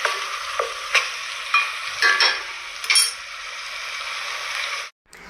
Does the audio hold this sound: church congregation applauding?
no